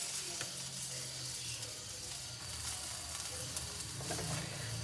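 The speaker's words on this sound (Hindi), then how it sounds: "तो जी आज आप देख रहे हैं ग्रिल हमारे चूल्हे पे। तो आज हम बनाने लगे हैं स्टेक।" Marinated chicken steak sizzling on a grill pan over a stovetop burner, a steady dense crackle and hiss throughout, close and moderately quiet, with no talking.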